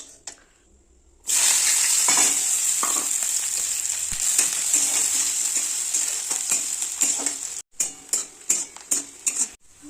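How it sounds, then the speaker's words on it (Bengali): Onions and dried chillies fry loudly in hot oil, a bright steady sizzle with stirring scrapes, ending in several sharp bursts of crackling. "শুকনো লঙ্কা পেঁয়াজ ভেজে নেব।"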